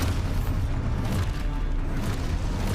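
An Expulso explosion spell goes off in Hogwarts Legacy, a loud, deep booming blast that rumbles on steadily without a break.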